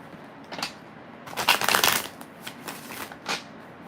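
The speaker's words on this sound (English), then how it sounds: "I'll do 2 more shuffles before I split that deck." Tarot cards being shuffled in a few quick riffling bursts, close and crisp, with short pauses between them and no talking.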